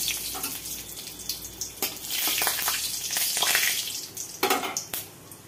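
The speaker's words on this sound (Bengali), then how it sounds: "এখন দিয়ে দিলাম 5 ফোড়ন আর একটা শুকনো লঙ্কা ফোড়নে দিলাম" Panch phoron and a dried red chilli sputter in hot oil in a kadai, giving a bright crackling sizzle that swells and fades in bursts, close by and without talking.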